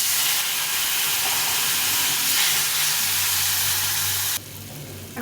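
Turmeric, cumin and chili powder sauté in hot oil in a pan with a loud, continuous sizzling hiss that drops slightly in level just before the end.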